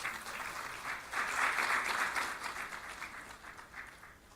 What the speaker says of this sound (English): please give a round of applause once again for moderator and all the speakers